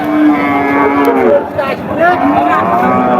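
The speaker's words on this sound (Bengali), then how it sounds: "এই যে গাভীর সাথে বাচ্চা" Cows mooing at a crowded cattle market in Chaugachha, Jessore, where cows and calves are sold; a drawn-out moo is followed by further lowing calls, loud and close over a steady background murmur.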